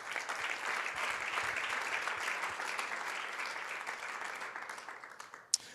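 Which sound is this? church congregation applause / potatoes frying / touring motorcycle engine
church congregation applause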